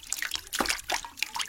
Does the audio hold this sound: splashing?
yes